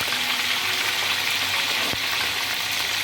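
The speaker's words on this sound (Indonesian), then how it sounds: "Nanti kepiting ini akan kita bakar atau kita panggang, tapi dengan cara menggoreng ini akan mengurangi rasa amisnya." Crab pieces frying in hot oil, a steady dense sizzle with continuous crackle running the whole time, close and loud, with one brief sharp click partway through and no voices.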